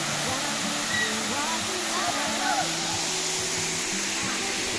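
Bailan waterfall in Mambusao, Capiz, Philippines roars in a steady broadband rush of falling water, with faint voices and brief murmurs partly heard beneath the constant wash.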